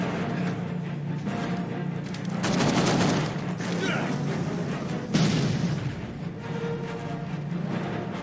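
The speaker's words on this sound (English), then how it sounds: "Stop! Don't fire! Stop firing!" Gunfire rattles through a Dead Rising 4 video game scene, with dense bursts of shots and heavier booming volleys swelling and fading over several seconds.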